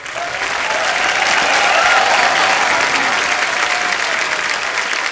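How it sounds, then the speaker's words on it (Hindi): Sustained applause from a large studio audience at a Hindi television comedy show, steady and loud throughout with crowd noise mixed in. "एक बार जोरदार तालियां मुबारका की पूरी टीम के लिए।"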